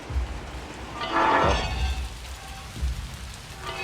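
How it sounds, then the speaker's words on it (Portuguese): Steady rain in the video game Little Nightmares II patters on a surface, a continuous soft hiss with a brief swelling gust partway through. "E tá chovendo."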